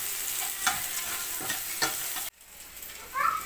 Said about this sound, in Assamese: পিঁয়াজবোৰ ভাজি লৈছোঁ গল্ডেন ব্ৰাউন হ'বলৈ দিব লাগিব